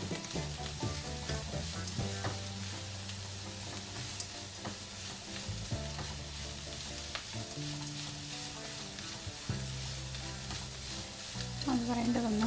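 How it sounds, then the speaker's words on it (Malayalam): Broccoli and egg being stirred in a frying pan, with steady sizzling broken by repeated scraping and clattering strokes of a utensil against the pan, close and fairly loud throughout. "നന്നായിട്ട് ഇളക്കി കൊടുക്കുക"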